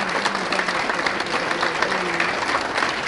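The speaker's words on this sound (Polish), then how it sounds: "Brawa dla tej fantastycznej osoby." Dense, steady audience applause fills a formal awards gala honouring laureates of the Cieszyn Land Laurels, sustained and fairly loud throughout with no voice over it.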